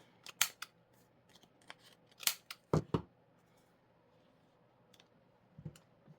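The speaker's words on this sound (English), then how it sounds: "I'm going to round these corners because it just kind of keeps that continuity in design" A corner rounder punches the corners of paper for a Halloween scrapbook layout, a few sharp, crisp clicks and snips in small clusters with quiet gaps between, close and fairly loud.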